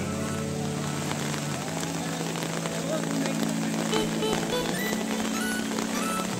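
Steady rain falls on a flooded road, a constant dense hiss of drops with a low hum underneath, unbroken from start to finish.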